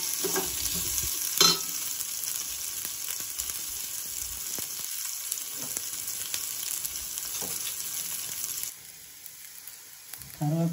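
Onions sautéing in a pan, a continuous hissing fry with scattered stirring scrapes and one louder clatter early on, the sizzle dropping away near the end.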